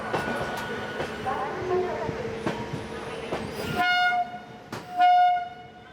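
A passenger train arrives at a station in India, with a low rolling rumble and squealing wheel tones, then a bright horn blast near the end. Voices are heard faintly.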